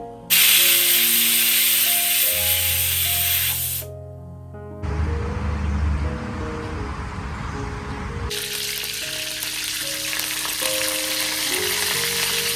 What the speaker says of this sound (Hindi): एक कढ़ाई में सबसे पहले मैंने कड़ी लीव्स डाला था, इसके बाद मैंने इसमें ज़ीरा ऐड किया।